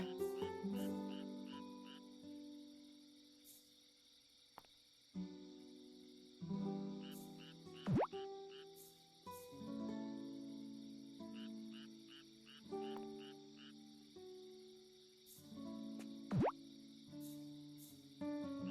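A toad croaks in the farming video game Doraemon Story of Seasons, with repeated croaks and plopping water sounds over soft, layered game music and ambience.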